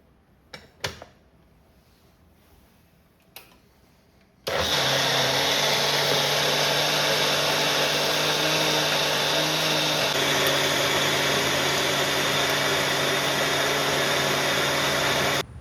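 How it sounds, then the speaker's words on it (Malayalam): A kitchen mixer grinder starts up and runs steadily at high speed, grinding coconut, cumin, garlic, ginger and a little water into a paste. A few light clicks come first, then a loud continuous motor whine. "തേങ്ങയും ജീരകവും 2 അല്ലി വെളുത്തുള്ളിയും 1 ചെറിയ കഷ്ണം ഇഞ്ചിയും അല്പം വെള്ളമൊഴിച്ച് നല്ല പേസ്റ്റ് പോലെ അരച്ചെടുക്കണം"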